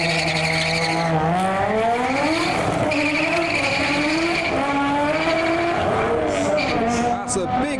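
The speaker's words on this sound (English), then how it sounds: "Definitely required the burnout launch." Nissan R33 Skyline with a big single turbo doing a burnout launch, the engine roaring and climbing through revs with tire squeal, loud and near, while people talk over it.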